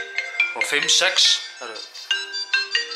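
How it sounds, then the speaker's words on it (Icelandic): A phone rings with a bright, repeating electronic melody of short tonal beeps, close and fairly loud, while a voice talks briefly over it. "síminn er að hringja"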